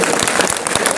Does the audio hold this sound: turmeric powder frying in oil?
no